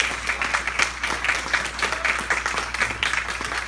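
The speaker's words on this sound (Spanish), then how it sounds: "Un fuerte aplauso al Rey." Congregation applauding during a church sermon, dense steady clapping filling the space throughout without a break.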